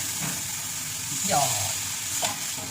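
Thin curry simmering and sizzling in a pan while a spoon stirs it, with a couple of soft scraping sweeps over a steady low bubbling hiss.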